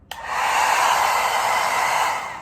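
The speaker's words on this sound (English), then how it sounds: "this is what my hair dryer looks like. It's a mini one, it's super small." A mini hair dryer switches on and blows steadily, a loud, continuous airy whoosh that holds for a couple of seconds before tapering slightly.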